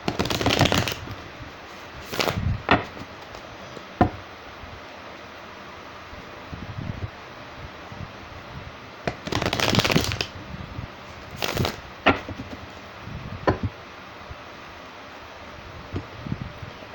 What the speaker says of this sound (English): I'm going to go ahead and a couple more shuffles